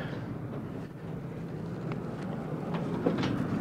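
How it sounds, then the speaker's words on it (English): A model diesel train, a Broadway Limited, running on a home layout: a low, steady rumble of wheels and motor with faint clicks as it rolls along, fairly close and without talk. "I got a diesel train that we're gonna pull it out."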